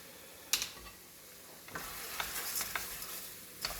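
Rice for a vegetarian Italian risotto sizzling in a pan as it is stirred: a quiet, steady frying hiss broken by a few sharp spoon scrapes and clicks.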